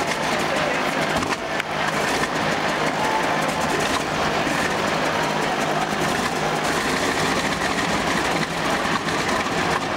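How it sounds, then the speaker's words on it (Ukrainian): An Antonov An-2 aircraft engine roars steadily at an open-air opera staged in a stadium in Ivano-Frankivsk, with a dense mechanical drone running throughout. "Опера розпочалася із заведення двигуна літака Ан-2, який виконував роль музичного інструмента."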